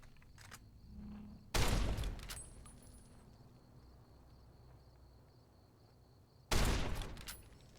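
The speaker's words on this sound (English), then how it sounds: "Pull out the varmint rifle." Two sharp varmint rifle shots ring out in Fallout New Vegas, spaced several seconds apart, each a loud crack with a short decaying tail over a quiet ambient bed with faint insect chirps.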